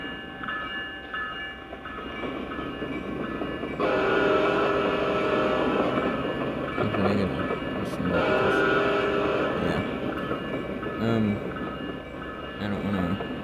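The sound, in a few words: train starting up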